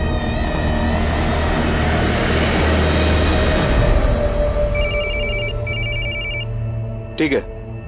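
A telephone rings with repeated electronic trills in two bursts over a loud continuous engine-like drone in a crime drama police scene, followed by a brief sharp sweep.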